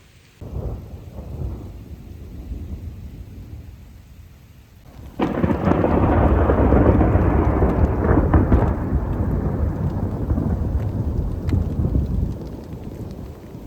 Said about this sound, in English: the storm has definitely slowed down or gone away completely